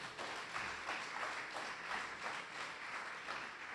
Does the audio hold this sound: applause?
yes